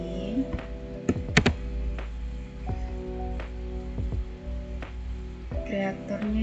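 Keystrokes on a computer keyboard as a Ctrl+C copy command is pressed while software is being set up, giving a few sharp clicks and scattered taps over a steady electrical hum.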